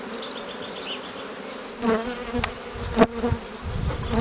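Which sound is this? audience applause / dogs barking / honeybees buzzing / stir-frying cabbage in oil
honeybees buzzing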